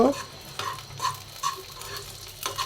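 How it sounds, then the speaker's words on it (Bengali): Chopped nuts, cardamom, cinnamon and bay leaf frying lightly in ghee for carrot payesh: a soft sizzle runs under several quick scraping stirs and small metallic clinks of a spoon against the pan. "বাদাম কুচি আর এলাচ, দারচিনি, তেজপাতা। এখন আমরা হালকা একটু ভেজে নিব।"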